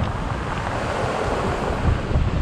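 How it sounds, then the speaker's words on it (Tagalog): Strong ocean surf on a beach in Bicol during a rainy week, a loud continuous roar of breaking waves mixed with heavy wind buffeting the microphone. "Lakas ng alon."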